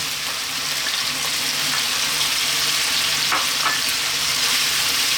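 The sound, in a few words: onion frying in a hot pan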